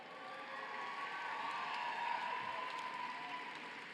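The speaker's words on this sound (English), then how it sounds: "A round of applause, please, for this faculty and staff of the School of Social Work." Sustained applause from a graduation ceremony audience honoring the School of Social Work faculty and staff, a dense, even wash of many hands clapping that holds steady throughout without any voices.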